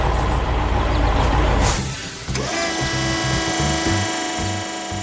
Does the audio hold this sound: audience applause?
no